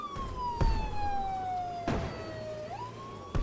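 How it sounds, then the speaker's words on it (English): An ambulance siren in the Brick Rigs Online vehicle game wails in one long, slowly falling tone that rises again near the end. Loud thumps and bumps from a moving vehicle break in over it. "I'm hearing the piercing siren of an ambulance"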